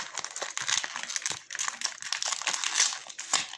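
Plastic wrapper of a Brawl Stars toy pack crinkles and crackles as it is torn open by hand, close and fairly quiet, a continuous rustle with small sharp crackles.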